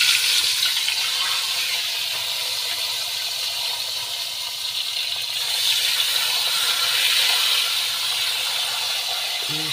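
Dried fish (pakas daing) frying in hot oil gives a steady, close sizzling hiss that swells and fades slightly over its length, with no talk.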